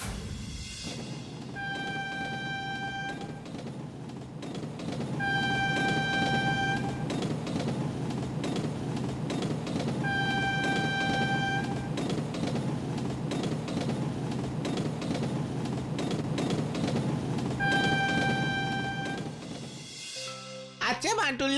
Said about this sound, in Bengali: সেদিন বিকেলেই আমি ট্রেন ধরে কাশেমগঞ্জের দিকে রওনা দিলাম।